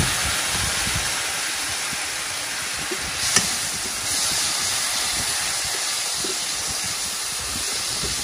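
Liquid aminos hit a hot pan with a loud, steady steam hiss and sizzle that holds for several seconds at close range, with a brief sharp crackle partway through and no talk.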